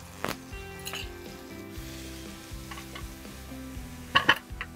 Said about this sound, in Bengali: এটা একটু হালকা ব্রাউন করে, হালকা ভাজা হবে।